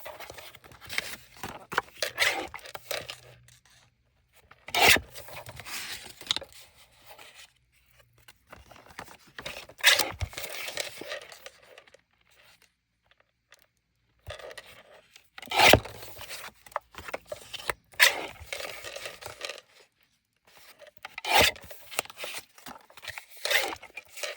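Scissors cutting paper pieces for a handmade zine, crisp snips and rustling in irregular bursts with pauses between, close and fairly quiet.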